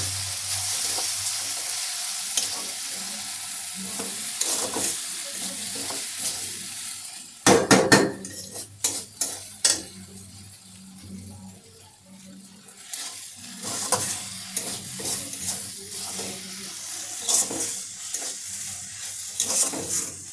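Spices frying in hot oil in a home kitchen pan, a steady close sizzle with a sharp burst of crackling midway, broken by occasional scrapes of a spoon stirring against the metal.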